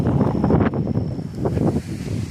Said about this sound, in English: So, sorry it's so windy.